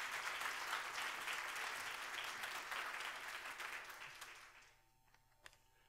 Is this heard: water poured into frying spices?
no